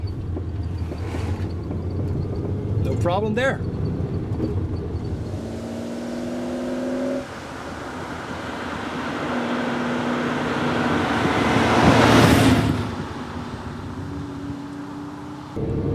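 Inside a running Ferrari 365 GTC4 on a country lane, engine hum shifts as another car approaches and sweeps past close by, its noise swelling then fading; a voice speaks briefly.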